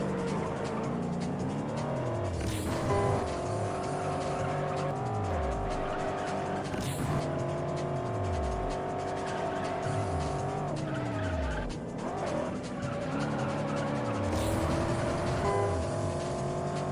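A race car skidding and spinning in a racing video game with modern V8 series cars, engine notes rising and falling repeatedly with drawn-out tire squeals, loud and continuous with faint background voice.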